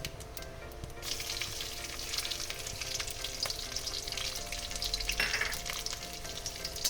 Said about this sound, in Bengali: এবার এটা একটু সামান্য একটু ভাজা ভাজা করে নেব। রসুনটা আমার ভাজা হয়ে গেছে।